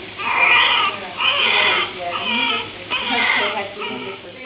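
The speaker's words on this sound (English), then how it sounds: "That was the cry of my second eldest when he was a baby." A recorded baby boy cries in repeated wailing bursts, loud and close, with brief breaths between the cries and no other voices.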